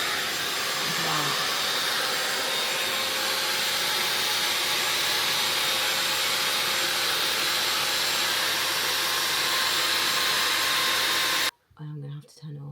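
A cheap Dyson-dupe hair styler blows a loud, steady airy roar on its cooler setting for about eleven seconds, then cuts off abruptly, followed by a few quiet sounds.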